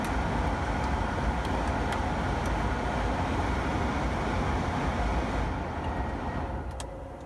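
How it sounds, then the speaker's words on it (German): A Tesla's climate-control blower, running with the air conditioning set to 20 degrees in hot weather, roars as a loud, steady rush of air inside the cabin, easing slightly at the very end. "denn die Lüftung ist doch sehr laut."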